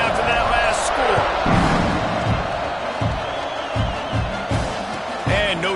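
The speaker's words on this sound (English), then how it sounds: "this crowd is buzzing after that last score" A stadium crowd buzzes and murmurs after a quarterback's rushing touchdown at a football game, a broad steady roar with scattered shouts and whoops, heard alongside a commentator's voice.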